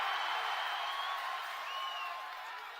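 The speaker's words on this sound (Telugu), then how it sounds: "ఉంది అంటే గట్టిగా చప్పట్లు కొట్టి చెప్పండి" A large crowd at an open-air political rally in Railway Koduru claps and cheers together, a steady wash of applause with whistles over it that fades a little toward the end.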